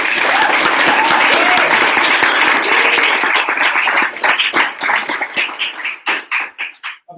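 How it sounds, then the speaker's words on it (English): Audience applause at a startup weekend's final presentations, loud and dense at first, then thinning into scattered individual claps that fade out by the end. "You can keep those applause going for Misfits."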